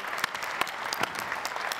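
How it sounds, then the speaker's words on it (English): Audience applause at a business leadership conference, a steady mid-level patter of many hands clapping with a few sharper claps standing out, sustained throughout. "let's give him a big round of applause"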